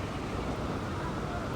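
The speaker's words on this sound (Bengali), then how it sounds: "এই যে ঝড়ো বাতাস শুরু হয়ে গেল, প্রচুর বাতাস।" Strong stormy wind roars steadily over the wide Jamuna River near the Jamuna Bridge, a dense continuous rush buffeting the microphone.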